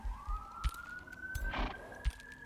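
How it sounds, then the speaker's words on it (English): A police siren wails steadily outside an open window by a busy road, a rising, sustained tone heard at a distance, with low thumps and a brief rush of noise around it. "Apologize for sirens outside my window."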